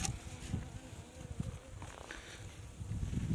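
Honey bees buzzing in a dense, droning hum, close by, confined in a hive with foam blocks, with swells and a louder surge toward the end; no talking.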